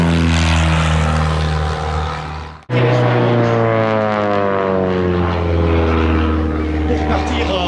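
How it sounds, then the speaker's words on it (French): A Bücker Jungmann propeller biplane takes off at an air show, its engine a loud, close, continuous drone that dips briefly and then climbs steadily in pitch as the aircraft gains power. "le Bucaire Yuckman au décollage"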